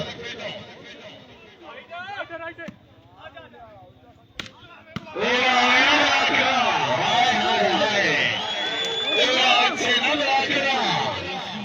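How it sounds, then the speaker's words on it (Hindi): Applause rises from a crowd at a volleyball match in Kothiyan, Bagh district, Azad Kashmir, following a stretch of announcer speech and court noise, then continuing loud and sustained over voices. "जोरदार ताली है यार"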